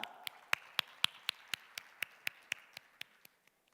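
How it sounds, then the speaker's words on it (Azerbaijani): An audience claps in rhythm on stage at a sales strategy panel event, about fifteen sharp evenly spaced claps that fade toward the end, with no talk over them. "Alqışlarınızla"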